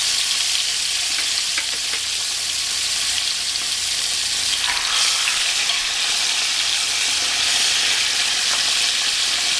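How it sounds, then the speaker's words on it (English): Steaks frying in oil and butter in a hot pan at medium-high heat, a loud, steady close-up sizzle with crackling pops, continuous for the whole stretch with no talking. "we're going to put these beautiful roasted"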